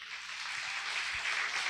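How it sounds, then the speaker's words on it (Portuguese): A church congregation claps hard during a Portuguese-language worship service, making a continuous, even wash of applause that sounds soft and somewhat distant, with no voices over it. "Aplauda bem forte ao Senhor."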